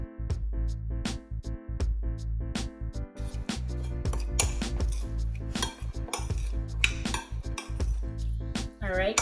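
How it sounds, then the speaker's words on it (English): Kitchen sounds while radish, scallions and onions are mixed with dry seasonings for kimchi: repeated clinks and scraping of utensils against a bowl, close and fairly loud, in an irregular rhythm throughout. "I mixed the dry ingredients with the onions, scallions, and radish."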